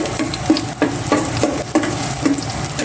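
Garlic sautéing in a pan for pork adobo: a steady close sizzle of hot oil with repeated scraping stir strokes about every half second, no voices.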